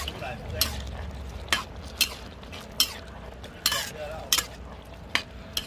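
Metal scrapes and clanks rhythmically against a wok as spicy eel stir-fry is tossed and stirred, over a constant low hiss of cooking, with no talking.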